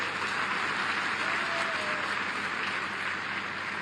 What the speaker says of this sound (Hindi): जोरदार एक बार ताली तो बजवा दीजिए।